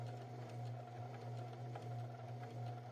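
A sewing machine runs a straight stitch, a steady close mechanical hum with a faint rhythmic pulse, on its own with no talking.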